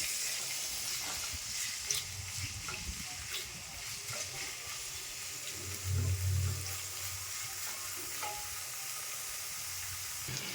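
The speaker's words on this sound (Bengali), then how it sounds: "পেঁয়াজ কুচিটা ভাজা ভাজা হয়ে গেছে" Chopped onion and garlic fry in oil for a fish dish, giving a steady, moderate sizzle with soft stirring scrapes and a brief louder burst midway, no talking.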